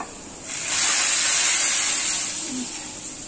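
Fried onion and garlic tempering hits a pot of dal with jhinge, bursting into a loud, bright hiss that swells quickly, holds for a couple of seconds and then slowly fades.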